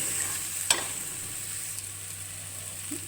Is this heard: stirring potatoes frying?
yes